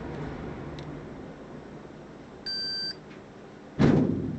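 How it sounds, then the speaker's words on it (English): A Fluke multimeter gives a single short electronic beep, about half a second long, over a low background hiss, with a brief louder clatter just after it. "It's beeping."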